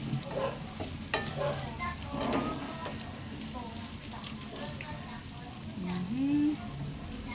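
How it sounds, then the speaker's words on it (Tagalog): Hotdogs are stirred in a hot pan, a continuous close sizzle with scraping and clinking from the utensil and a short squeak near the end, while a voice talks faintly in the background. "Okay, haluin natin ulit."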